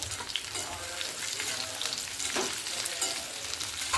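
Sweet potato slices frying in a pan on low gas, a continuous soft sizzle and crackle like light rain that stays even for the whole stretch, close up and with no talking.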